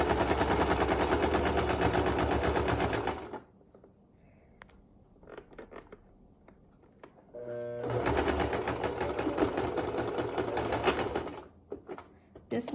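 A sewing machine whirs loudly in two long fast runs of stitching across a fabric mask with elastic, separated by a pause filled with small clicks and handling noises.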